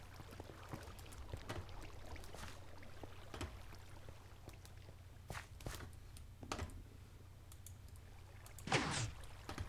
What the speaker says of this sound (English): The piston will extend the blocks out, and then when I turn the signal off, they will go back.